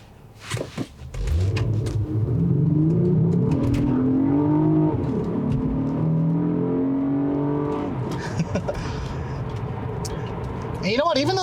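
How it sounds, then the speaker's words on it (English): A 286-horsepower Acura TL sport sedan, twelve years old and fitted with an aftermarket intake, pulls away from a stop, its engine note climbing steadily in pitch over several seconds and staying loud and close throughout. "it actually still moves pretty well"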